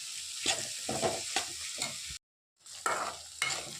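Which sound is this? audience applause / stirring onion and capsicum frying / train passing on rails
stirring onion and capsicum frying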